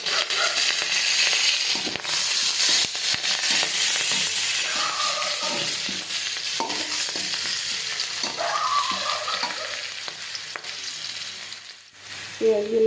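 Onions and green chillies, with a bay leaf, sizzle loudly and continuously in hot oil where fish was just fried, with scraping stirs and clinks of the spatula against the pan throughout.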